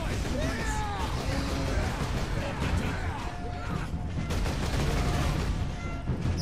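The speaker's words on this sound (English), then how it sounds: "Where do those shots come from?" Rapid gunfire and explosive bursts from a Warhammer 40k Space Marine battle, dense and continuous with overlapping shots and voices mixed into the din.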